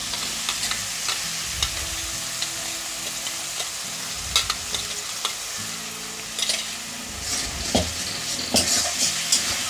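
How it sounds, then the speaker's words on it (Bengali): Spice masala being fried and stirred in a kadai over a low flame for a cauliflower dish: steady close sizzle with repeated scraping strokes of a spatula and occasional metallic clinks, no speech. "অবশ্যই ভালো করে মশলাটা আপনারাও কষিয়ে নেবেন"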